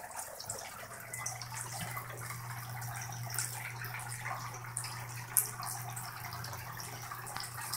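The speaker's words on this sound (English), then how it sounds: "the water is supposed to move fairly slow through here" Slow water trickles and drips through a home aquaponic setup feeding an NFT channel, a soft steady wash with a low pump-like hum underneath and occasional small splashes, quiet and close.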